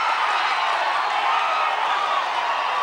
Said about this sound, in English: Listen to the crowd come out of it